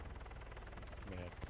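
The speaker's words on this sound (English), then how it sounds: "Are these, friendly NATO choppers?" Helicopters flying in the military video game ArmA 3, NATO rotorcraft giving a steady low rotor thump and engine drone throughout, loud and close, with a brief rise near the end and a voice speaking over it.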